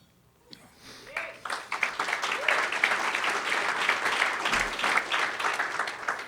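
An audience at a chamber of commerce state of education address breaks into applause during a speech, starting with a few scattered claps and quickly swelling into full, steady clapping that holds to the end.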